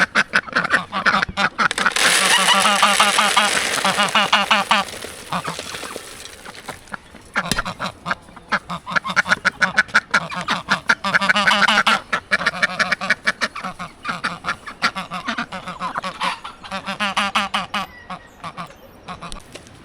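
Ducks on a farm in the Colombian Andes quack loudly and close, in a busy overlapping chorus of repeated honking calls with short pauses between bursts.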